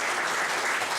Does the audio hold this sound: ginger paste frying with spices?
no